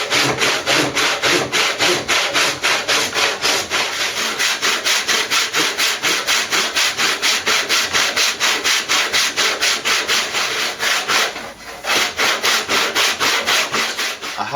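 A hand saw cutting wood for a custom multi-scale guitar in a workshop, fast, steady back-and-forth strokes, loud and close, with a brief pause near the end before sawing resumes.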